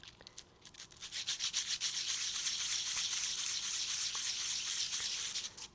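Sandpaper rubbed against e-bike brake pads to cure squealing, a quick run of scratchy strokes that builds into a steady, close, dry rasping that carries on for several seconds before easing off.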